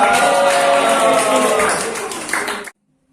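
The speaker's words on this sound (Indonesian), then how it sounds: "tepuk tangan untuk Sidik" Classroom applause for a student presenting on the functions of the Quran in an Islamic studies session, a dense burst of many hands clapping together, loud and close, then tapering off and cutting to silence.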